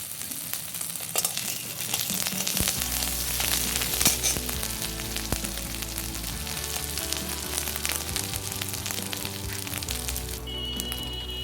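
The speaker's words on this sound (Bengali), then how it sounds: "কয়েক সেকেন্ড আদাটা একটু ভেজে নিলাম।" A small amount of grated ginger fries in a little oil with a steady, crackling sizzle, and a low hum runs beneath it throughout.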